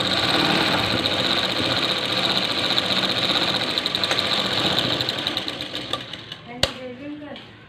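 A sewing machine runs a rapid, steady stitching whir while sewing a pressed plate onto a blouse joint. It sounds close and mechanical, slows and stops near the end, and is followed by a sharp click.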